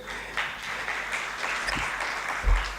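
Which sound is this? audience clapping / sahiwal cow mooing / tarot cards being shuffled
audience clapping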